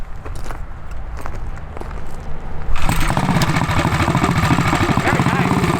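A racing mini bike with a Tillotson 236cc engine, after some quiet shuffling and footsteps, suddenly becomes loud and close, a buzzing small engine revving under a thumb throttle.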